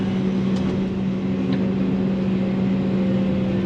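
A sheepsfoot roller compactor's engine runs steadily nearby on a pond overflow job, a loud, constant low drone with a humming tone and no pauses.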